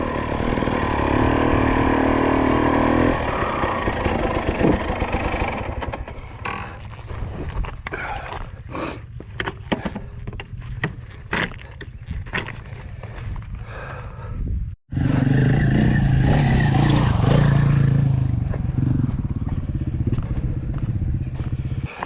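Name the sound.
two-stroke motorcycle engine on an off-road ride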